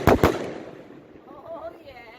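Fireworks go off on bonfire night: two sharp, loud bangs in quick succession at the start, then a fading crackling tail with a faint voice underneath.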